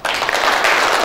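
Trainees in a managers' training session in Quetta clap together in a brief, dense burst of applause lasting about a second, steady and close throughout.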